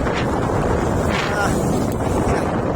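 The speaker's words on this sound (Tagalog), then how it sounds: "medyo malakas ang hangin ngayon no?" Strong wind from a tropical storm roars into the microphone in a dense, continuous rumbling gust with no break across the short stretch.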